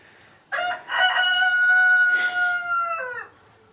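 A rooster crows a long, loud cock-a-doodle-doo inside a new chicken coop, one drawn-out call close by, with faint clucking from the hens around it.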